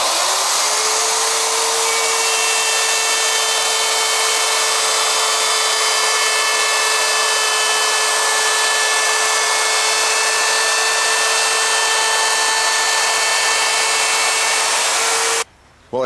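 Router fitted with a flush-trim bearing bit trimming a mahogany edge flush against MDF, a loud, steady high whine that holds for about fifteen seconds alone before cutting off abruptly.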